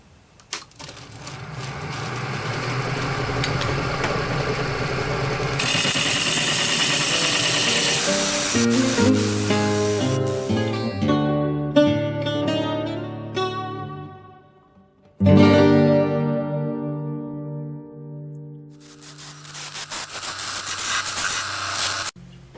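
A wood lathe turns a natural edge bowl as a tool cuts it, giving a long rough scraping and chattering grind with rising and falling pitch, a short break, then more cutting, close and fairly loud.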